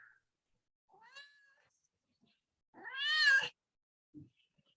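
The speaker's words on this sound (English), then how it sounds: "Oh, that kitty looks happy to see you." A cat meows twice, first a soft short mew and then a louder, drawn-out meow close by, with a faint thump afterward and no talk.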